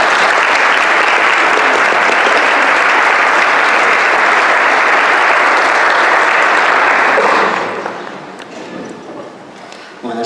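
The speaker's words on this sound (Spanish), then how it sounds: "Les pido un aplauso para César." Loud, sustained clapping from a lecture audience at an astronomy talk, holding steady for several seconds before fading into scattered claps and a quieter room.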